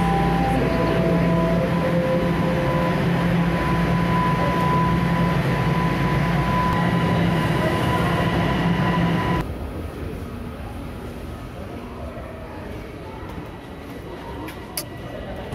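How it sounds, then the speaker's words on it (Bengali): A Toronto subway train pulls out of Sheppard-Yonge station with a loud rumbling hum and rising motor whine that cuts off sharply, leaving a quieter platform ambience with distant rumble. "আমরা এই ট্রেনটা মিস করলাম, পরের ট্রেনটার জন্য আমাদেরকে অপেক্ষা করতে হবে ডন মিলস যাওয়ার জন্য।"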